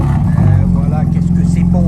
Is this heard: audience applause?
no